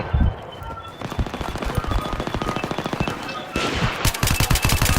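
Dense automatic weapon fire rattles in a Battlefield 3 multiplayer match. Rapid bursts of shots come in a steady stream, loud and close, and grow heavier and sharper toward the end.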